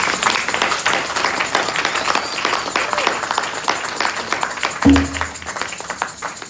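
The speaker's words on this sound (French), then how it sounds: "Est-ce qu'on peut acclamer pour la gloire de Dieu?" A church congregation breaks into loud, dense applause with scattered cheers, sustained throughout, with a preacher's voice briefly rising over it and a sharp thump near the end.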